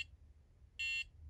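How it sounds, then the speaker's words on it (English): A Nintendo Game & Watch Helmet (CN-07) handheld sounds its alarm: a short high electronic beep, then a steady shrill tone lasting about a quarter second, close and clear over faint background hiss. "that's the alarm going off"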